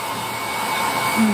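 A hair dryer blows steadily and close, a continuous airy whoosh with a constant motor hum that stays loud throughout, without any talking.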